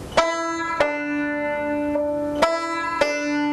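A note on a fretted string instrument is pushed off, with four sharp plucked attacks, each ringing on with strong sustained harmonics, played close and alone.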